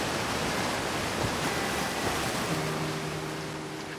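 A steady roar of rushing water comes from a waterfall in the video game Outer Wilds, a broad continuous wash of noise, joined near the end by a faint sustained tone.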